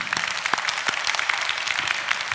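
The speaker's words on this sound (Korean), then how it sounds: "하나님께 박수합시다." A church congregation in Korea claps together during a sermon, a dense, steady round of applause that fills the room.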